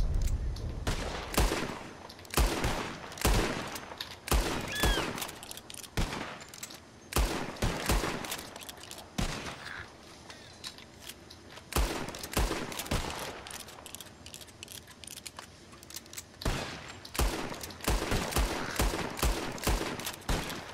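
Gunfire rings out in Red Dead Redemption 2 as players shoot at birds, a long series of sharp, loud shots in irregular bursts, sometimes clustered and sometimes spaced apart, with brief talk underneath.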